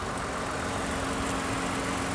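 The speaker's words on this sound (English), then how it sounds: "It still sounds like a little 4-cylinder." A Subaru WRX four-cylinder engine idles with a steady, even rumble that runs unbroken from start to finish.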